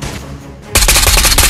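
Video game gunfire from Ghosts of Tabor, where a quiet stretch suddenly breaks into a loud, close, sustained burst of rapid automatic fire.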